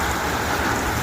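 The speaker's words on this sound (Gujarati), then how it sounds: "ધોધમાર વરસાદની શરૂઆત થઈ ગઈ છે। વાવાઝોડું અને વરસાદ બંને સાથે છે।" The season's first downpour in Palanpur city, driven by wind: a dense, loud, unbroken roar of rain with no distinct thunderclap in this short stretch and no voices.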